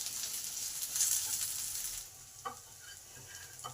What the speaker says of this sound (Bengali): এই রসুন, লঙ্কা, জিরে এগুলো একটু ভালো করে ভেজে নেব।